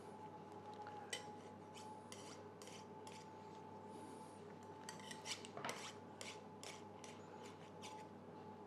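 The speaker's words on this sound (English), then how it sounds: "with this sort of flat knife, we'll just take the excess off there" A flat knife trims excess crimped pastry off a chili pie, giving soft, scattered scraping and rasping strokes against the dish, faint and close over a steady low background hum.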